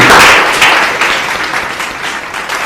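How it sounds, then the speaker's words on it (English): A quiz competition audience applauds a contestant named Suhani, a burst of dense clapping that starts loud and gradually thins and fades over a few seconds. "Big round of applause for Suhani"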